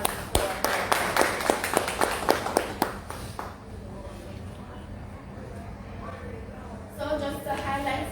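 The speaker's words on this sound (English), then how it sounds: "So a round of applause for her." A brief burst of clapping from a small group for about three seconds, then it fades into quiet room tone before a voice begins talking.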